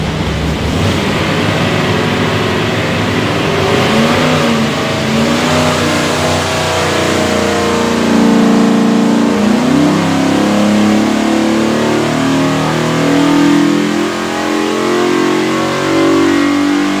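Dual-quad EFI 427 Ford FE V8 running on a dynamometer, a loud, steady mid-pitched engine roar that swells under load from about eight seconds on, with no talking.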